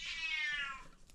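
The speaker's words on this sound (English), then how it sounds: "Yes, cat." A cat gives a single drawn-out meow, fairly close and clear, lasting about a second in an otherwise quiet room.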